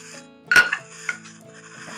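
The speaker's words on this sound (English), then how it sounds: "Now we drop our stones in, which were boiled with the jars I did earlier" Boiled fermentation weight stones drop into glass sauerkraut jars, giving one sharp clink followed by two lighter knocks, close and fairly loud against a quiet room.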